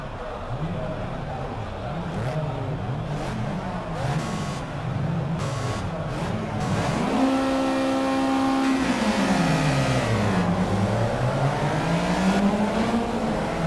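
Race car engines roar together at the start of a Project CARS video game race, the pitch climbing steadily through the gears in a continuous, loud, dense drone.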